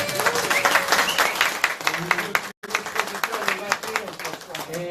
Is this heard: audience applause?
yes